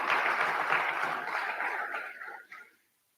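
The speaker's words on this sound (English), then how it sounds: "She deserves a round of applause." An audience applauds at a hall of fame ceremony, a dense wash of clapping that holds steady and then thins and fades to silence within about three seconds.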